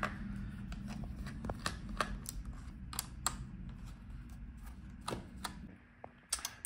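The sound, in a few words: removing screws from Alienware m17 R4 laptop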